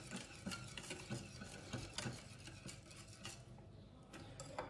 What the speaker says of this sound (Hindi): इसको विस्क कर लें ताकि इसकी जो लम्स हैं वो ख़त्म हो जाएं